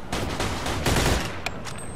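Rapid bursts of gunfire from a shootout in the video game Mafia II, loud and close, with repeated overlapping shots.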